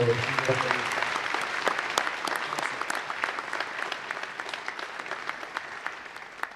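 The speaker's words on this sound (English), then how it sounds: "Let's have another round of applause for all of our." Applause from the audience at a high school athletic hall of fame ceremony, a steady wash of many hands clapping that fades slightly over several seconds, with a voice speaking over the start.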